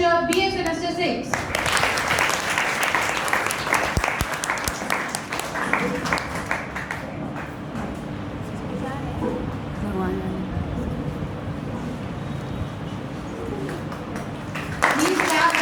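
Applause for prize winners at a college elocution and prize distribution ceremony, sustained crowd clapping for over ten seconds, with voices and a short burst of speech at the start and end.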